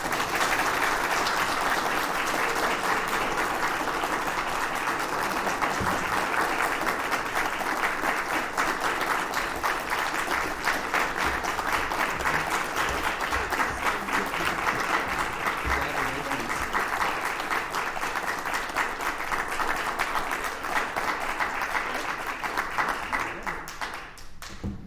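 Audience applauds an award recipient at a university distinguished alumni awards ceremony, steady dense clapping filling the room for about twenty-five seconds before tapering slightly at the end.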